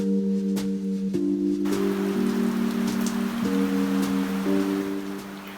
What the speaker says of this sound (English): it was raining so much